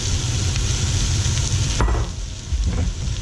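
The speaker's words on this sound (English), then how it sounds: "We're going to add the onions, the celery, the carrots," Onions, celery and carrots sizzling loudly in a pan under a running kitchen fan, a dense steady hiss with a couple of brief stirring scrapes, close and alone without speech.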